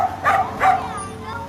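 A stray dog on a street gives two short close barks in quick succession, each a brief yelping burst followed by quiet.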